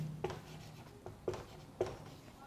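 Pen or marker writing a definition on a board in a maths lesson on sets, heard as three short squeaky strokes spaced about half a second apart, close and fairly faint over low room hum.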